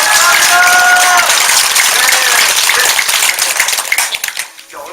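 Church congregation applauding, a dense burst of clapping that fades toward the end, with voices mixed in.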